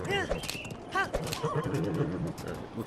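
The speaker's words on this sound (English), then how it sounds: "Come to me, big horse." A horse neighs repeatedly with rising and falling whinnies, and hooves clip-clop on the ground, in the video game Breath of the Wild. The sounds are close and clear, with some background game sound.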